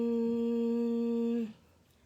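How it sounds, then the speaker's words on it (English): A person hums with a closed mouth, one steady sustained tone lasting about a second and a half before stopping abruptly, close and clear with no talking. "just close your mouth and make a humming sound like this."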